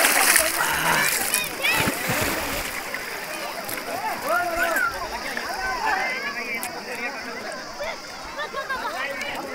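Splashing in the Ganga river while taking a dip at a mela in Kaushambi district, repeated sloshing water bursts close by, with people talking and shouting over it throughout.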